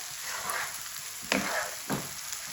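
Potatoes and bitter gourd fry in a pan, giving a quiet hiss of sizzling with two distinct scraping strokes as they are stirred. No voices.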